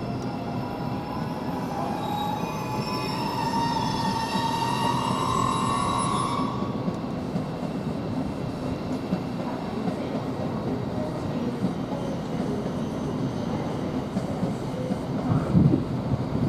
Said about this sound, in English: we've got a Thameslink now actually departing, which is the 1453 to Horsham